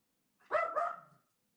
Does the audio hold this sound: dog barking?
yes